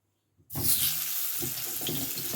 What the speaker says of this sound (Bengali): তেলটা গরম হয়ে গেছে এবারে আলুটাকে